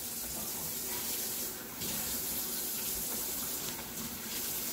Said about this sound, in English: I'm gonna wash my hands so we can get started